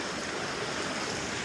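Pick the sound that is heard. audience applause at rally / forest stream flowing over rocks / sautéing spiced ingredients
forest stream flowing over rocks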